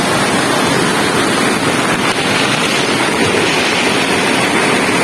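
Floodwater rushing down a swollen river during the rainy season, a loud, constant broadband roar with wind buffeting the microphone and no speech.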